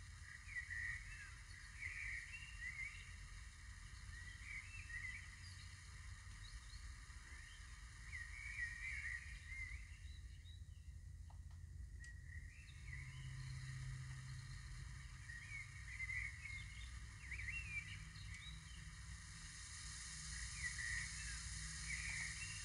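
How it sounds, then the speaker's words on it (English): Birds sing outdoors in faint, distant bursts of chirping that return every few seconds over a low, quiet background rumble, with no voices. "That's birds."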